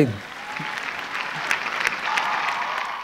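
Audience applause for a singer on The Voice Cambodia live show, a steady continuous clapping from a crowd that holds through the whole stretch with a few sharper claps standing out.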